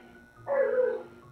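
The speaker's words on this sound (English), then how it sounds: "I hear some hounds barking upstairs." A hound in the Mass Effect video game gives a single short, whiny bark or yelp at moderate distance, rising out of a quiet game background and fading after about half a second.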